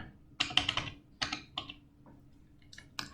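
Close keystrokes on a computer keyboard while an address is entered into an online ordering form: a quick cluster of clicks, a pause, then a few scattered taps with a final keypress.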